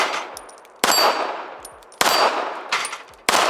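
Ruger Security-380 pistol fires three spaced shots at a steel plate. Each sharp, loud crack is followed by a bright metallic ring from the struck steel, with no talk.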